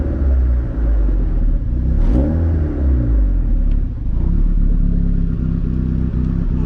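A car engine revving under a Chippernut sequential control box install, a loud, close rumbling idle with one quick rev that rises and falls before settling back to a steady drone.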